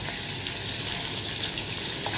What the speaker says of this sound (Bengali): মাছগুলোকে হালকা হালকা করে ভেজে নিয়ে তুলে দেব।